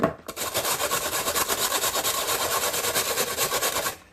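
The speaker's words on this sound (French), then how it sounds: "Nous allons commencer par râper les gaufrettes avec les petits trous qui sont là." Steady, rhythmic rasping scrapes repeat quickly and continuously, crisp dry wafer biscuits rubbed against the small holes of a grater, close and fairly loud.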